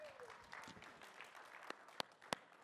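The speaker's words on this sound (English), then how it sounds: "One more clap, just a little one." A small conference audience gives brief, light applause after a speaker is called up, scattered claps thinning out with a couple of sharp isolated claps near the end.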